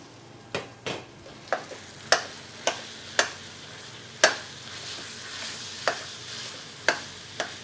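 Fresh lamb mince sizzles steadily in a hot pan, broken by a series of sharp clacks and scrapes as a utensil stirs it at irregular intervals.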